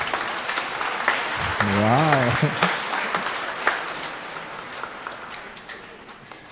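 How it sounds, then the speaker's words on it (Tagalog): A church congregation at a Sunday evening Advent Mass applauds loudly, steady crowd clapping throughout, with a person's voice briefly exclaiming over it. "Pumalakpak ng malakas."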